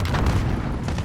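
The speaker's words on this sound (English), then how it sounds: "this guy's using a rocket launcher" Rocket launcher fire in a video game: a loud, deep booming blast with rumbling low end that tails off over about a second, with no talk.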